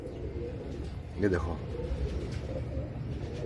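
A pigeon gives a soft, low coo amid steady background rumble, with someone speaking briefly nearby.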